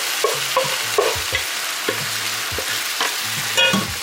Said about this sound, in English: I'm going to add my noodles into my skillet.